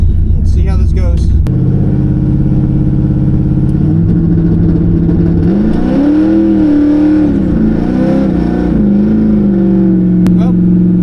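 An LS2-swapped El Camino roars close and loud, the engine note rising and wavering through a long hard pull as the tires spin, with a voice shouting briefly at the start.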